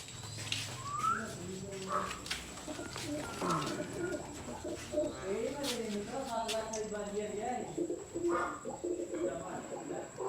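Pigeons coo softly in the background while people talk over them, with some sharp clicks and a steady high tone throughout.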